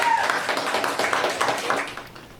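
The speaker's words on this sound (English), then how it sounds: "Clap us out." Studio audience applauding on a live talk show, a dense, steady patter of many hands clapping throughout at moderate loudness with no talk over it.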